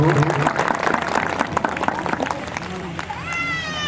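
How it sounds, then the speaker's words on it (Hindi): Applause from an audience at a 40th annual community gathering in Salhewada, Balaghat, rising as a dense loud clatter and continuing throughout, with voices in the crowd. "ताली बजाइएगा आप सभी सजाती भाई बंधु।"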